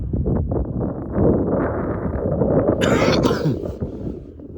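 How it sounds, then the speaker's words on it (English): Steady low rumbling wind buffeting the microphone, continuous and loud, with a brief hissy burst near the end. "It's also kind of windy out here, so."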